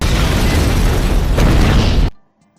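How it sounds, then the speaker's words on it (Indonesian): A bomb goes off in an animated cartoon: a loud, sustained blast rumbling for about two seconds before cutting off abruptly into near silence. "Bom meledak."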